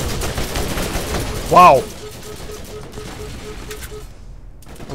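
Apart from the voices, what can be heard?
grenade explosion and gunfire in video game Borderlands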